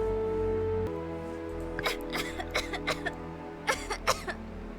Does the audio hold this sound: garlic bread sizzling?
no